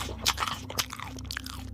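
A chewing and crunching sound effect plays several close, wet bites and crunches in an uneven rhythm over a low, steady hum.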